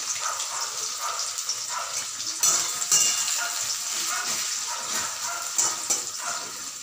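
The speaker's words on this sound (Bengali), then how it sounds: "সেই পেঁয়াজ কুচিগুলো দিয়ে দিলাম।" Chopped onions frying with spices in a pan, a steady sizzling hiss that holds close and fairly loud throughout, with a few brief clinks and stirring scrapes.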